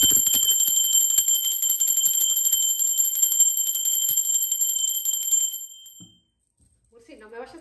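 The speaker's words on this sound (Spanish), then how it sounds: "va campana, ya fue campana" A bell rings continuously with a bright, sustained metallic tone for several seconds, then stops, leaving near silence and a faint shuffle.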